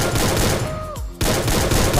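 Dense gunfire in the Free Fire mobile shooter, a loud rapid fusillade of shots with a brief lull and a falling tone midway before the firing resumes.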